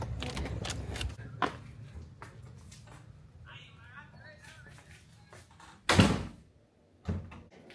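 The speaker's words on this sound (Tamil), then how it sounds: "இப்படி இதில் டச் பண்ணவே இந்த கதவு திறக்கும்" A hotel room door is unlocked with a key card and opened, with soft clicks, a faint electronic chirp, then a loud latch clunk and the door swinging, as a voice talks early on.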